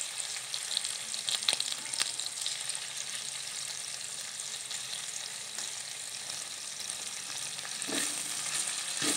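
Tongseng goat curry spices fry in a pan, a dense continuous sizzle with occasional scraping stirs and no talking.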